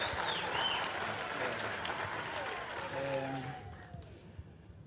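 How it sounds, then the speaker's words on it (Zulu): An audience claps together at an official skills-centre launch, a dense burst of applause that thins and fades out toward the end. "ngiyacela nje ukuthi simshayele ihlombe"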